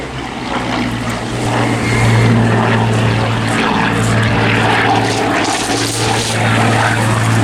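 Battle of Britain Memorial Flight propeller warbirds fly past at the Eastbourne Airshow, a loud, steady piston-engine drone with a throbbing propeller note that swells and holds, heard outdoors with no talk.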